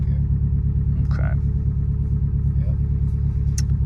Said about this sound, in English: you can feel it's just idling happier